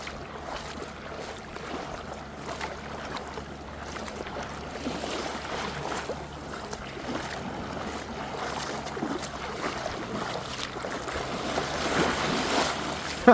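Waves washing and breaking around a boat near Koh Tao, a steady rushing surf with wind, building slightly louder toward the end, no voices.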